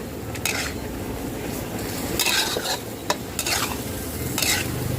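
Pork liver stir-fried with seasoning sauces over high heat, giving a steady loud sizzle with constant scraping and clanking of a utensil against the pan, close up and with no talk.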